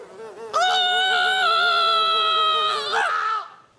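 A single voice imitates a fly in flight for a comedy sketch, holding a loud, buzzing, wavering hum for about three seconds before it trails off.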